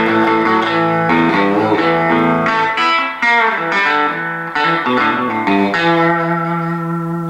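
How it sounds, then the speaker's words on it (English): An electric guitar with a RebelSonic Monolith pickup switched to single-coil mode plays through a Fender amp, bright sustained chords and melodic phrases with a slightly driven, chorus-tinged tone, loud and close, with brief gaps between phrases and no talking. "So the front mode, you go into the single coil sound."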